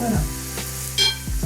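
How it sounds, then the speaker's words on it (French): Onions softening in a hot pan, giving a steady close sizzle broken by a few stirring scrapes. "j'ai mes oignons qui sont en train de fondre"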